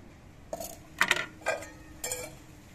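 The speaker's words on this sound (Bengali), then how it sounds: "কাঁঠালের বীজগুলো আমি 20 মিনিট পর ঢাকনা খুলে নিচ্ছি।" A metal lid comes off a pot of jackfruit seeds soaking in water, giving several close, bright clinks and clanks of metal on metal in quick succession, with no talk.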